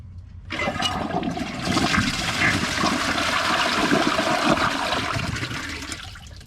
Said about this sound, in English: Let's give this a flush.